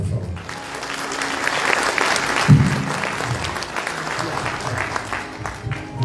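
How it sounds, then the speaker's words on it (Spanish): An audience at a university graduation ceremony breaks into sustained applause, moderately loud and even throughout, with a low thump near the middle and some voices mixed in. "Dos aplausos, por favor"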